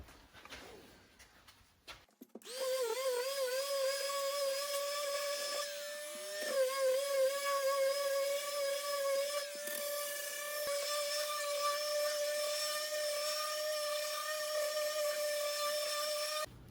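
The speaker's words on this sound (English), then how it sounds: "now I'm going to give my drawer fronts, the faux fronts, a quick sanding" Wooden faux drawer fronts for shop storage cabinets get a quick power sanding, a steady high-pitched whine with a bright tonal hum running unbroken for about fourteen seconds after a quiet start, close and loud with no talk.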